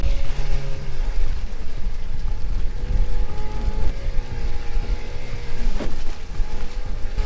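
The engine of a 1985 Stacer 3.4m motorboat roars steadily at full throttle, loud and close, with water rushing and wind noise around it.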